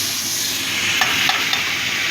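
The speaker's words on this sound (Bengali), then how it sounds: "একটুখানি কষিয়ে নেব" Prawn masala with five kinds of vegetables being stir-fried in a pan, a loud continuous hissing sizzle with a few light spoon scrapes and taps against the pan.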